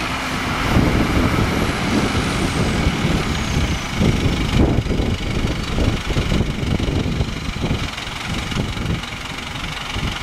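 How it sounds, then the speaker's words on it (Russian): A 1025 tractor pulls a Claas Rollant 250 RC baler through a field of clover and grasses, its engine chugging loud and close with a steady rumbling drone and a continuous mechanical clatter. "Папа прессует с трактором 1025 и пресс-подборщиком класс"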